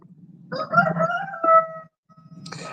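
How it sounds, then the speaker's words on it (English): A rooster crows close by, a long rising-and-falling call, followed by the start of a second crow after a brief pause. "With the rooster crow"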